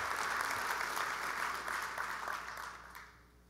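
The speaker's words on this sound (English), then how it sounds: "round of applause" A keynote audience at a government technology conference gives a quick round of applause for award winners. Dense, even clapping runs steadily and then gradually fades as the hall quiets, with no voices over it.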